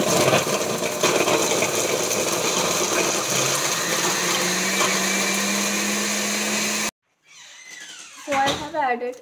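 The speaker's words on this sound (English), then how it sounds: "Let us blend this." Kitchen blender grinding energy ball ingredients, including peanut butter, a loud continuous whirring motor for about seven seconds that cuts off abruptly, followed by a person speaking.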